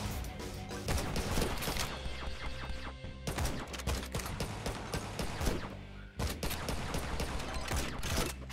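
Rapid bursts of pistol fire in the zombie survival game Yet Another Zombie Survivors, dense clattering shots in three long volleys separated by brief gaps.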